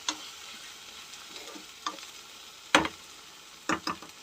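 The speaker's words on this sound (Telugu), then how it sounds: "పసుపు యాడ్ చేసి కలుపుతున్నా." Turmeric stirred into prawn curry in a pan: a soft background sizzle broken by several sharp spoon scrapes and clinks against the pan, heard close with no talking.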